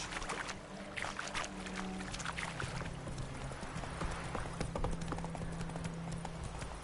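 Geralt's horse Roach from The Witcher 3 trots along with a steady, rhythmic clip-clop of hooves, loud and close, over a low rumbling ambience.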